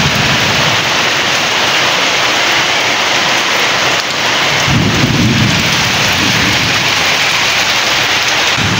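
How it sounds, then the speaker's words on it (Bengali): Rain falls steadily in Burdwan as thunder rolls overhead, a low rumble swelling midway under the constant patter and hiss of the downpour, loud and close. "তো মেঘটা গর্জাচ্ছে, দেখো গর্জন করছে,"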